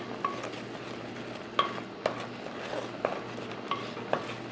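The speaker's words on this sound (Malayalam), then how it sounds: "ഇളക്കി ചേർക്കാം നന്നായിട്ട് നന്നായിട്ട് ഒന്ന് ഇളക്കി ചേർക്കാം" Spices being stirred into boiling tomatoes for rasam: a spoon scrapes and clinks against the pot about once a second over a low simmering bubble, with no talking.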